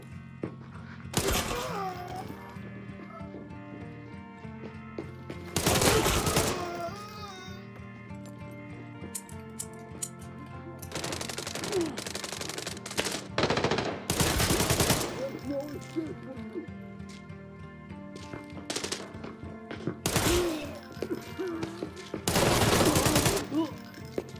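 Gunfire in the shooter game Arena Breakout Infinite, repeated loud bursts of shots spaced a few seconds apart over a steady game backdrop, with a voice talking between them.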